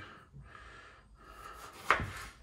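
A knife slices through fresh tomatoes, trimming off their ends for a lamb tajine with preserved lemons. It makes soft, close rubbing cuts and then one sharper chop that lands on a board.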